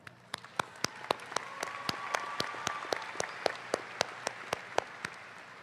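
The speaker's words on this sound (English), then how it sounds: "give her a round of applause" A school audience applauds a club advisor during a 2022 farewell address, with crisp, evenly spaced claps from a small group, close and clear, with no speech.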